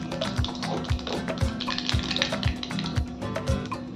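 Nigella seeds temper in hot oil in a pan, giving a close, continuous sizzle with sharp regular tapping bumps about twice a second, likely a utensil stirring, over a faint steady hum.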